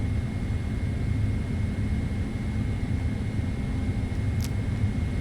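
PMDG Boeing 777-300ER on its takeoff roll in Microsoft Flight Simulator 2024 at a midnight Singapore departure, a steady, loud jet engine roar and broadband rumble that holds throughout, with no talking.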